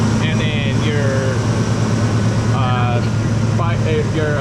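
A steady Chevrolet Blazer engine, converted from carburetor to fuel injection, hums beneath the talk, its low idle drone settling as people speak over it.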